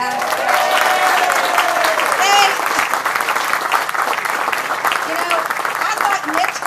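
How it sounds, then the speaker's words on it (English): An outdoor crowd at a community service celebration in a park breaks into loud, sustained applause and cheering that carries on steadily throughout, with voices mixed into the clapping. "Let's give them a round of applause."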